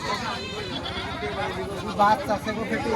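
Goats bleat repeatedly at a busy livestock market, with a crowd chattering and people talking close by throughout.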